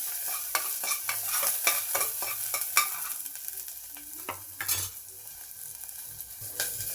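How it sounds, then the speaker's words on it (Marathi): Onion stir-fried in a pan, a run of rhythmic spatula scrapes and clacks over a soft sizzle, close and moderately loud, with no one talking. "छान परतून घ्या पहिलं."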